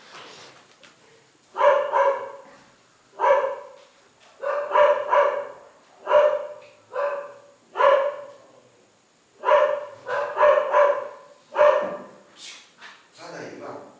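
Dogs bark in repeated bursts, sometimes single woofs and sometimes quick doubles, fairly close, with short quiet gaps between them.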